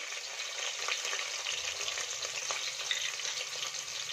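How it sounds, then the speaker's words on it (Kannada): Sliced onions fry in hot oil with mustard seeds and curry leaves for a vegetable saagu, giving a steady, fairly faint sizzle with a few soft crackles and no voices. "ಇಲ್ಲಿ 2 ಈರುಳ್ಳಿನ ಸ್ಲೈಸ್ ಆಗಿ ಕಟ್ ಮಾಡಿ ಹಾಕೋತಾ ಇದ್ದೀನಿ"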